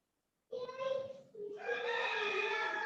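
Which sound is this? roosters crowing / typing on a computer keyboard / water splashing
roosters crowing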